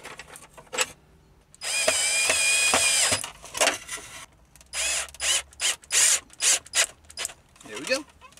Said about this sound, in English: Put my screw insert thingy in there, got me a pair of pliers.